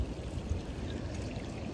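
A creek running on a windy day, a steady close pouring, splashing flow that continues without break and without voices.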